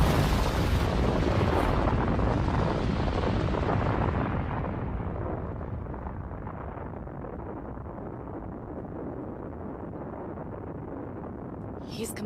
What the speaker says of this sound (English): He's completely destroyed Uranus Castle.